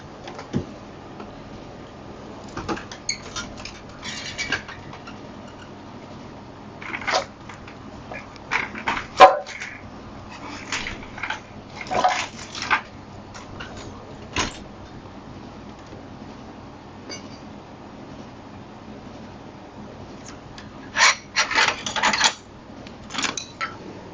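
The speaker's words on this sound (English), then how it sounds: "just going to get a little chisel and tap it a little bit on one side and tap it on the other" A small chisel taps a crown race off a bicycle fork on a beach cruiser, with light metallic ticks and irregular clusters of taps spread over the span, quiet and close with no talk.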